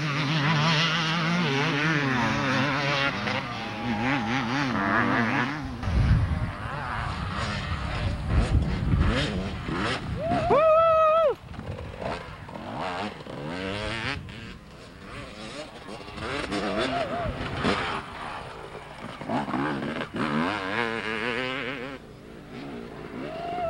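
Enduro motorcycles racing at the 1994 ISDE in Sand Springs, Oklahoma, a continuous loud engine drone that rises and falls as bikes rev and pass, with a sharp shifting whine partway through and voices faintly underneath.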